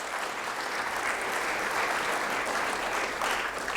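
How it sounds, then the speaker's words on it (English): A large audience at the 2017 Cupertino State of the City Address breaks into dense, steady applause, many hands clapping together at an even level throughout with no voices on top. "So I give you a round of applause."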